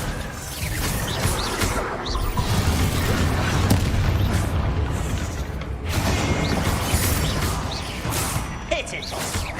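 Bombarda explosion spell in the video game Hogwarts Legacy: continuous heavy booming blasts and crashing combat noise, loud and sustained, with brief whooshes over a dense low rumble.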